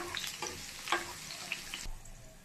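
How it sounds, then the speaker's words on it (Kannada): Onions frying in a pan until golden brown for tomato thokku, a steady soft sizzle with a few light stirring scrapes, close and fairly quiet, no talking. "ಈರುಳ್ಳಿ ಸಹ ಚೆನ್ನಾಗಿ ಗೋಲ್ಡನ್ ಬ್ರೌನ್ ಆಗೋವರೆಗೂ ಫ್ರೈ ಮಾಡ್ಕೋಬೇಕು"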